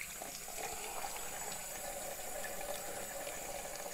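Tap water runs steadily as a Garancia skincare product is rinsed off, a continuous hiss at moderate level with no other sounds.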